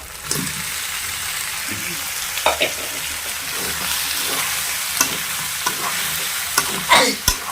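Meat masala sautéed and stirred in a pan at home, a steady sizzle with scraping spatula strokes and occasional louder knocks against the pan; faint voices in the background.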